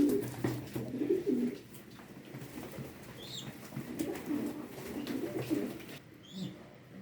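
Pigeons coo softly nearby in repeated low, throaty bursts, with faint rustling and a quiet background voice, at a pigeon auction.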